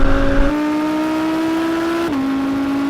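An Audi RS accelerates hard in a drag race against an Audi E-tron GT, a loud close engine note holding a steady rising tone, then dipping briefly at a gear change before carrying on.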